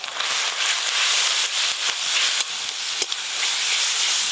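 Ginger-garlic paste with turmeric and chili powder sizzles loudly in hot oil while fish fries, a steady close hiss with small pops and no talking.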